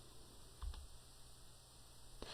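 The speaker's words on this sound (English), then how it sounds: "if I press Enter 1 more time, it will force yet another line" The Enter key on a computer keyboard gives a couple of soft, brief clicks in a very quiet room, faint and isolated, with no talking.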